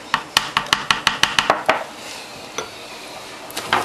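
A utensil taps rhythmically against a bowl while mixing instant yeast with melted butter, about a dozen quick even strokes, then a few scattered taps, close and clear with no talk.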